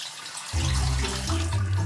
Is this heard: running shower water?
yes